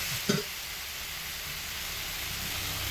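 Fried brinjal and potato pieces drop into a hot pan of spiced masala with a brief soft clatter, followed by a faint, steady sizzle that continues without talking.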